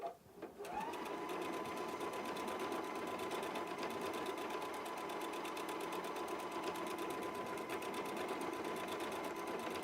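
A Viking EPIC 33 sewing machine stitching sideways motion stitches on fabric, a fast, even mechanical whir with rapid needle ticks running continuously after a brief start, close and alone.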